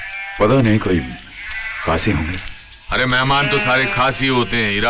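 Sheep bleat in a village setting, their wavering cries mixed in and overlapping with close conversation between people.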